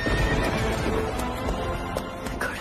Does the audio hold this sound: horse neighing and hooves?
yes